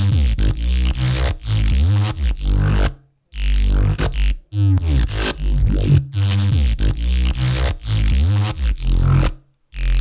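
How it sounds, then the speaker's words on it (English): A gritty synthesized Reese bass drenched in phaser and chorus plays in loud, choppy sustained notes with sweeping, swirling harmonics, broken by short silent gaps between phrases. "So the phaser and the chorus together sound like this."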